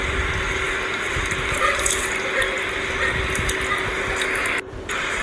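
Water pours in a steady, loud, continuous stream into a cooking pot for pilau rice for a home-style chicken biryani, with a brief dip near the end.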